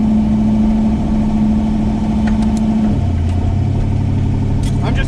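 A Chevstang drag car engine idles at a drag strip, a steady loud rumble that drops to a deeper, lower note about three seconds in, with faint clicks above it.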